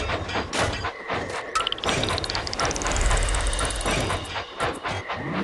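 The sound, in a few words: electrified train engine in Thomas & Friends Minis video game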